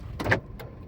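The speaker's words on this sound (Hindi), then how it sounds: "जैसे ही हमारी गाड़ी की स्पीड 15 पर पहुंची अपने आप हमारे सारे डोर्स लॉक हो गए" Power door locks on an Alto K10 engaging automatically as the car reaches 15 km/h, a quick close mechanical thunk followed by a fainter second click inside the cabin.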